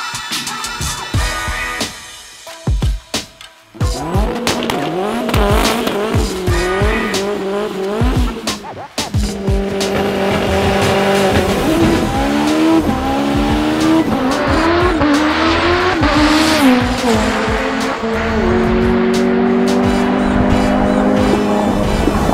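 Race cars on a drag strip, a 1200 hp Honda S2000 and a McLaren 720S, engines revving loudly with rising pitch sweeps through the gears and squealing tires, close and continuous after a few brief pauses.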